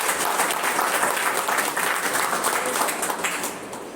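An audience at a New Year celebration event breaks into dense, sustained applause, a steady wash of many hands clapping that fades slightly near the end.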